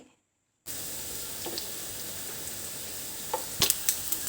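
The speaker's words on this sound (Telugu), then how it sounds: "ఈ బ్రౌన్ కలర్ వచ్చేంత వరకు దీన్ని మనం ఫ్రై చేస్తూ ఉండాలి" Potato bites fry in hot oil in a pan, giving a steady, even sizzle that starts abruptly after a brief silence, with a few louder crackles and spits near the end.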